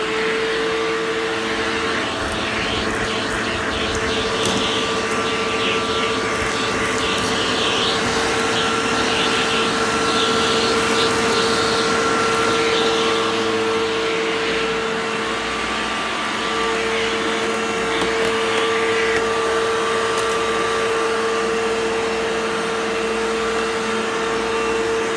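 An In Reach vacuum cleaner runs with its hose attached, a loud, continuous close whine and rushing airflow held steady throughout with no talking.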